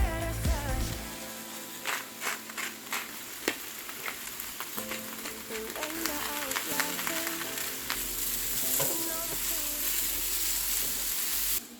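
Mushrooms and onions sauté in a hot pan, giving a steady close sizzle with occasional stirring clatter throughout, with no talk.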